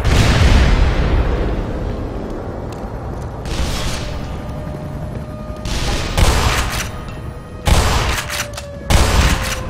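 Shotgun blasts in the Black Mesa video game, several heavy booming shots spaced a second or two apart over a dense rumbling background of gunfire and action, with no talk.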